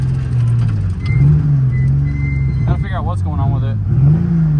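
Toyota Chaser driving with an engine that has lost a cylinder, its uneven low drone rising and falling as it revs, with someone talking over the running motor near the end.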